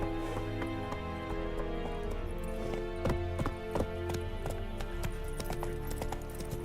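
A horse galloping in The Witcher 3 gives a steady, rapid clip-clop of hooves with rhythmic thuds over game ambience and music, close and fairly loud.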